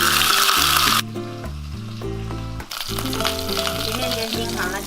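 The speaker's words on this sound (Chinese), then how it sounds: "然后把鸭肉放下来煎。" Duck meat searing in a pan with a little oil and ginger slices: loud, bright sizzling that drops away for a moment and then resumes, under a layer of steady background music.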